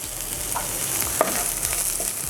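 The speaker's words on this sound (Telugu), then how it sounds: "ఇప్పుడు చివరిగా మనం ఇందులో కాస్తంత తురిమిన కొత్తిమీర వేసుకొని కలిపేసుకుందాం" Grated coriander being stirred into an onion tempering in a pan for buttermilk rasam, with a steady frying sizzle and a few soft spoon scrapes at close range, no talk.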